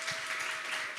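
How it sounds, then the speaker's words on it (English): Audience clapping at a conference panel session, a moderate, even patter of applause heard at a slight distance in a hall with a faint steady tone underneath. "Can we get a round of applause for all"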